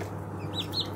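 Newly hatched chicks from a fresh brood of five, giving a few faint high peeps over a steady low hum, close by and with no talk.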